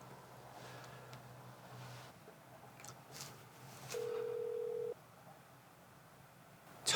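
A single steady electronic ringback tone of an unanswered phone call sounds for about a second over faint background hiss, then stops; no one speaks.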